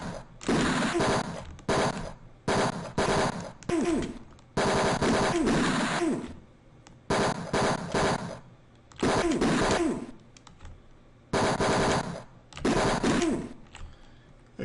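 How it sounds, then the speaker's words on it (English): Rapid machine gun fire in the Mean Streets video game, loud repeated bursts of one to two seconds separated by short pauses. "Get that rapid fire going"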